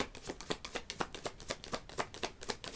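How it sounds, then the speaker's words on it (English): Playing cards are shuffled in quick, rhythmic riffles, roughly four bursts a second, close and soft, with no speech. "I'm just shuffling."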